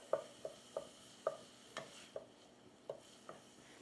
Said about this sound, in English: And there's our garlic. So we're just gonna stir this around.